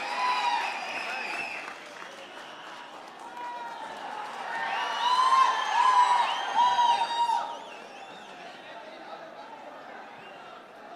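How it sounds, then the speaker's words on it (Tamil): A crowd claps and cheers through a packed hall at a TVK political meeting in Salem, a steady wash of applause that swells in the middle with whoops before easing back to a lower roar. "அரங்கம் நிறைந்த கைத்தட்டல்"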